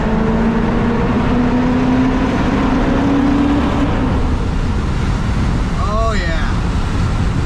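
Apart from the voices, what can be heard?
BMW 540 engine driving through a tunnel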